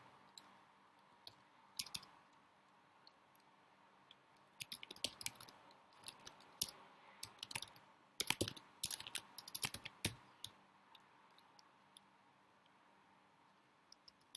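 Computer keyboard typing of C++ code, bursts of close key clicks that come in uneven clusters, densest in the middle stretch before thinning out, with no talk.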